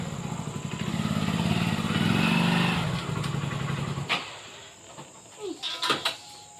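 A motorcycle engine idles steadily close by in a village setting for about four seconds, then cuts off, leaving scattered clicks and brief voices.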